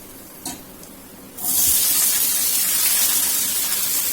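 Peanuts frying in a pan for a breakfast dish, with faint clinks at first, then a loud, steady broadband sizzle that kicks in at about 1.4 seconds and holds without a break to the end.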